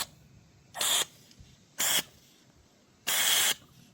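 Three short bursts of aerosol carb cleaner hiss out through an adapter tube into a Suzuki TL1000R motorcycle's fuel system, each about a third of a second, separated by quiet pauses.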